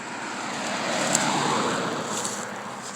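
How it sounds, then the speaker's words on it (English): A car approaching and passing on a road outside a home under renovation, a broad steady rushing whoosh that swells near the middle and fades slowly, with wind-like noise throughout and no talking. "I didn't even hear that car till it was just about to pass us"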